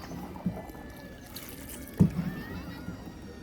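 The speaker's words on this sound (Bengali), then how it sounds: "বহুদিন পরে নৌকা চালানোর সুযোগ পাইলাম, তাই নৌকাটা একটু চালাচ্ছি।" A wooden boat being rowed on a river at Sonargaon, Naogaon, with two distinct paddle splashes and light water trickling over a low, murmuring background.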